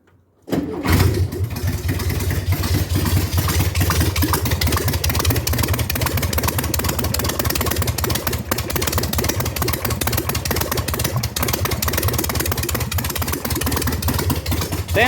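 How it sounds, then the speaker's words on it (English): A Dubrod project car engine with no exhaust fitted cranks and catches, then settles into a loud, rough, steady idle that stays close and constant for the rest of the clip. "Sounds crappy because it doesn't have an exhaust"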